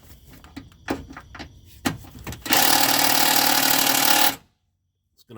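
Power tool or ratchet work on a 10 mm ground bolt on a Ford Focus, a few short rattling clicks, then a loud sustained two-second buzzing whir close by, cutting off into quiet.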